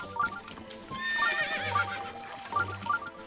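A horse in Zelda: Breath of the Wild whinnies loudly once in a long, wavering neigh, with clip-clopping hooves before and after, and no talking over it.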